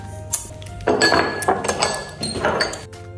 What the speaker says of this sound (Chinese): 湿粮包， 搅拌一下啊。